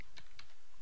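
A few keystrokes on a computer keyboard tap out quickly, four or five light clicks close to the microphone with the last one sharper, and no talk.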